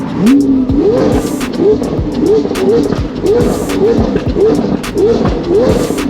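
A Lamborghini Aventador SV Roadster V12 revs hard again and again in rising sweeps with its exhaust valves open, each pull breaking into crackling pops, loud and close with a few rapid bursts repeating across the clip.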